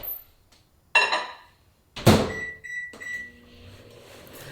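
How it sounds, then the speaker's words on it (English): A microwave oven heating a small glass of water: a door clunks shut, buttons beep, then the oven's hum starts and runs steadily, close by and alone. "I just nuke it for 6 to 8 seconds, depending on how much water is in that glass."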